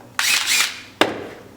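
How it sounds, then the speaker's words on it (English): A power drill whirs in two short bursts, the first lasting about half a second and the second briefer, close and loud, with a quiet workshop in between. "drill"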